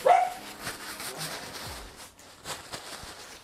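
Dogs barking and whimpering in a motorcycle workshop, a sharp bark at the start followed by scattered softer yips and whines at moderate distance, with no talk over them.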